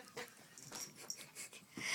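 A poodle pants and whimpers while playing with a string toy: quick breathy panting bursts mixed with soft high whines, close but quiet, continuing through the whole stretch.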